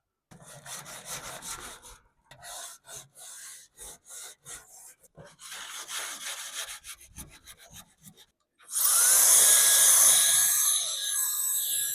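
A tired wooden garage door is sanded by hand in short rhythmic strokes with brief pauses, followed by a louder continuous whir of a power sander near the end.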